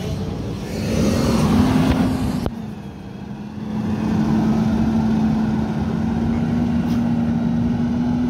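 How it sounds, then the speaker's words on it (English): Truck 106 on route 52 pulls away with a steady engine drone and a low tonal hum, loud and close, dipping briefly midway before settling into an even rumble. "There goes my truck."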